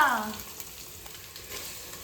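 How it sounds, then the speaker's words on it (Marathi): Tempering spices sizzle in hot oil, a soft, steady frying crackle with light clicks, following a brief bit of talk at the start. "आता आम्ही डायरेक्ट फोडणी देऊ"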